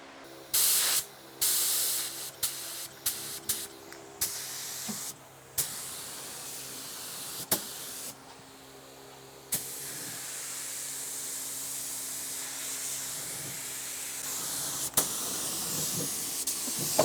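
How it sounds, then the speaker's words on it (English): Spray gun laying down a clear coat: after a few short trigger bursts, a steady close hiss of spray runs almost continuously, with no one speaking. "We'll spray a little bit"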